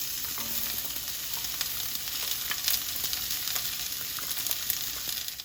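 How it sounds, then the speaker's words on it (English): Onion and garlic sizzle steadily in olive oil in a pan heated on medium, a soft continuous crackle and hiss with faint stirring, quiet and close with no talking. "I'm going to add some olive oil and start cooking my onion"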